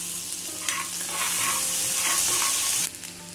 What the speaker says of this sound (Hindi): हींग डालेंगे, अदरक लहसुन और मिर्ची डालेंगे और इसे थोड़ी देर फ्राई करेंगे।